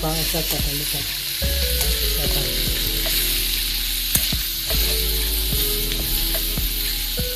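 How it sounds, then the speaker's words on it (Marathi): Chilapi river fish fry in oil and spices with a loud, continuous sizzle and crackle close by, broken by occasional sharp pops and soft clinks. "तर मस्तपैकी तेलामध्ये आणि मसाल्यामध्ये मासे करपाटून घेतले"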